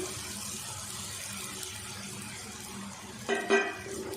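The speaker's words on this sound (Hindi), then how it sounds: "अब हम इसमें चावल डाल देंगे" Rice drops into a cooking pan for egg fried rice with a brief rustling patter near the end, after a stretch of quiet kitchen background with faint water and utensil clatter.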